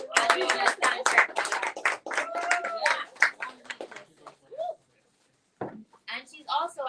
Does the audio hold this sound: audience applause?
yes